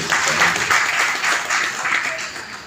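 An audience at a Ramayana recitation event applauds loudly, steady clapping filling the whole stretch.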